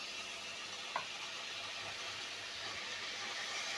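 Dry spices for an okra and potato curry sizzle in a pan after a splash of water is added, a steady soft hiss throughout with one brief stir near the start.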